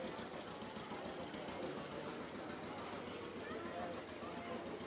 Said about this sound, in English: And then we have David on his restored 1939 John Deere G.